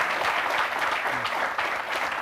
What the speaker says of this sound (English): perhaps the audience could give him a special round of applause